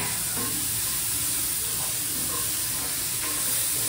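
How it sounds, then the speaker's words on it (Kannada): Mushrooms frying in a pan for homemade pizza give a steady, close sizzling hiss with a few faint scraping knocks, and no voices. "ಮಶ್ರೂಮ್ ಇವಾಗ ನೀಟಾಗಿ ಫ್ರೈ ಮಾಡ್ಕೊತಾ ಇದ್ದೀನಿ"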